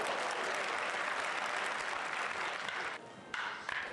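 Baseball fans at a spring training camp with around 3,500 spectators applaud a home run that strikes the batter's eye screen, producing steady dense clapping from a large crowd that continues without a break.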